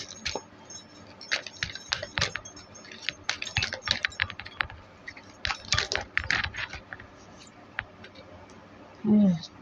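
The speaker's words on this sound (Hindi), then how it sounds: "चलिए कार्ड्स निकाल लेती हूँ फिर बताती हूँ" Tarot cards are shuffled and drawn from a deck close up, giving quick papery flicks and soft clicks in uneven bursts. A faint voice can be heard briefly near the end.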